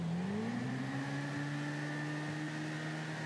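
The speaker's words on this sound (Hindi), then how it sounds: "भगती है तब तो और अच्छी आवाज आती है बाइक में" A KTM RC8R 1190 motorcycle in the GTA 5 video game revs up briefly, then settles into a steady, even engine drone.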